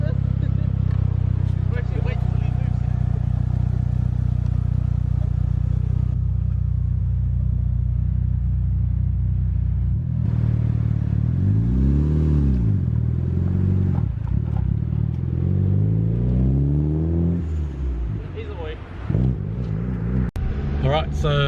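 A Mitsubishi Lancer Evo 6 pulls away in a race sprint. At first its engine rumbles steadily, then it revs up and down through rising and falling sweeps before settling into a close, loud drone.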